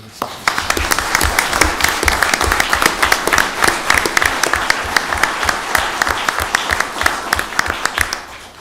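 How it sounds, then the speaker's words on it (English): An audience at a municipal voting meeting breaks into sustained applause, many hands clapping densely and evenly for several seconds before tapering at the end. "So I'm going to give you a round of applause for that."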